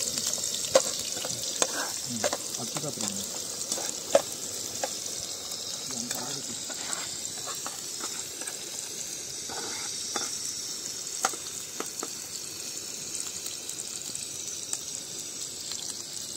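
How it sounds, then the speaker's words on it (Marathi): Onion, garlic and ginger sizzle steadily in a hot pan for the whole stretch, with occasional stirring clicks and scrapes, a close and continuous frying hiss. "आता मित्रांनो आपण कांदा टाकणार आहोत, त्याच्यानंतर लसूण,"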